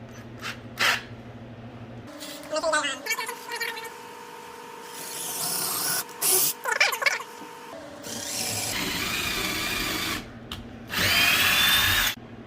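A power drill bores a pilot hole into a wall stud for a TV mount, whining in several short bursts and longer runs separated by quiet gaps and faint handling clatter.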